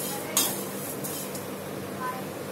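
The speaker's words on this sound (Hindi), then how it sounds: "इसको हमें हल्की आंच पे ही ड्राई रोस्ट करने, अच्छे क्रिस्पी होने तक, और इस तरीके से लगातार चलाते भी रहेंगे" Poha dry roasting in a kadhai over a low flame, a spoon scraping and clinking against the metal as it is stirred nonstop, with one sharper clank early on and a steady low rustle throughout.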